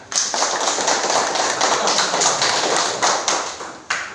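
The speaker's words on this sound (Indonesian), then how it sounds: "Baik, tepuk tangan untuk kelompok 3." A classroom of students applauds together for a small group of classmates, a dense steady patter of many hands clapping close by for about four seconds, with a few sharper claps near the end.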